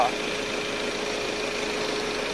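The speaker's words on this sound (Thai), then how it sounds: "รันเครื่องยนต์ให้มัน อ่า ชาร์จแบตเตอรี่นะกลับเข้าไป ในเจ้าแบตเตอรี่นะ" A car engine idles steadily to recharge its battery after the terminals are reconnected, a continuous mid-pitched hum with slight knocking texture, close and even throughout with no break.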